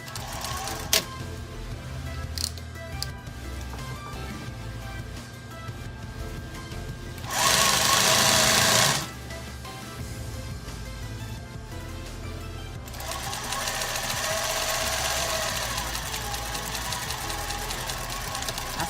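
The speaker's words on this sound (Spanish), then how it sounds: "vamos a pasar la costura hasta el final o extremo de la falda" A sewing machine runs a seam along a straight skirt, a steady mechanical whirr with a louder, brighter burst of fast stitching in the middle and a renewed run toward the end.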